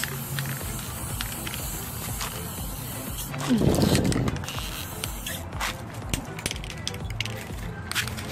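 A short burst of aerosol spray paint hissing near the middle while painting an outdoor bench, standing out over steady background noise, with faint knocks and movement before and after.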